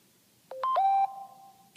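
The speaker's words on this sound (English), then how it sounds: "And then we have our alert tones. So we have Aurora," The iOS 7 Aurora alert tone plays once, a short cluster of bright electronic chimes that settles into a single sustained tone and fades, clear and close against silence.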